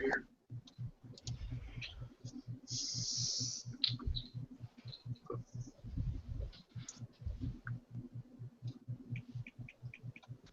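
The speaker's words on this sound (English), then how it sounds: "I'll type it in the sidebar here" Soft, rapid keyboard clicking from someone typing on a computer, a steady patter of small taps running under quiet talk in the background.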